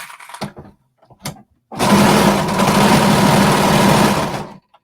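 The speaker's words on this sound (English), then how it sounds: "So I'm basting. I'm not cutting anything off." A sewing machine basting pockets onto a tunic: after a few soft clicks and handling sounds, the motor runs at a steady fast whir for about three seconds, close and loud, then stops.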